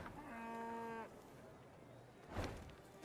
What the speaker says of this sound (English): all the cows seem healthy now that... I guess I saved them all